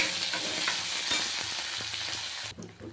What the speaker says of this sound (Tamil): அது கொஞ்சம் வதங்கட்டும். அது கூட கருவேப்பிலை போட்டுருவோம். கொஞ்சம் வதங்கட்டும்.